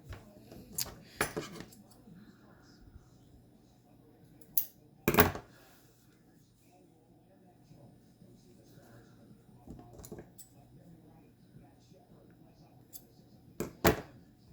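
Scissors snip a notch into sewing fabric for a sling bag, a few sharp metallic clicks standing out against a quiet room with faint low hum.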